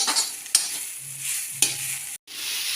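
Spices including salt, turmeric, red chilli and coriander powder fry in a pan for a radish and fenugreek dish, with a soft sizzle broken by two sharp spoon clacks and short scraping stirs.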